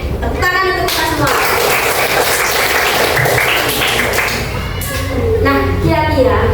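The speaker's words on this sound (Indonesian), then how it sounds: "Tepuk tangan untuk kita semua" A classroom of children claps together, loud and close, with overlapping chatter and young voices talking over the clapping, a few thumps and shuffles, and a brief pause near the end before the noise picks up again.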